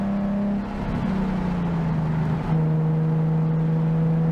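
A modified Nissan 370Z engine drones steadily at close range on a greasy race track, its pitch dipping and then settling into a sustained, loud hum with no talk.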